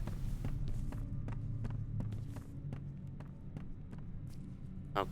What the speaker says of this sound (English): I keep hearing these enemies running around breathing.